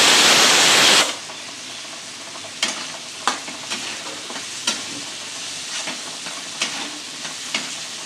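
Tomatoes drop into a hot frying pan for eggplant bharit with a loud burst of sizzling steam, which settles into a softer fry punctuated by a series of sharp spoon-stirring scrapes.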